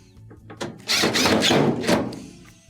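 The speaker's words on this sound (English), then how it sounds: "Next, switch over to your Phillips bit. Reattach your 2 screws inside." Screws are driven back into a Maytag dryer with a Phillips bit, heard as a short burst of a power driver whirring against the panel after a single thunk, close and alone.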